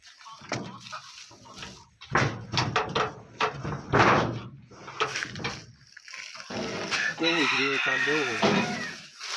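Free-range country chickens on a village poultry farm, with a rooster crowing loudly and repeatedly, hens clucking around it in bursts of close, busy fowl noise.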